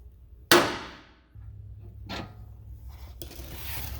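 A hammer strikes the drag link stud to pop it out of the pitman arm on a Jeep JL or JT: one loud, close metallic clang that rings and decays, followed by fainter knocks over a low rumble.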